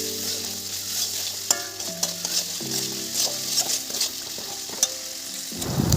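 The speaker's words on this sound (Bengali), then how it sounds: "আবারও কষবো।" Curry stirred and sautéed in a pan, a close steady sizzle of frying with repeated scraping and clinking of a spoon against the pan throughout.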